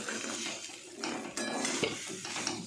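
Cold cooked rice with salt fries in a pan while a utensil stirs and scrapes it, soft sizzling under intermittent clanks and scrapes, close and without talking.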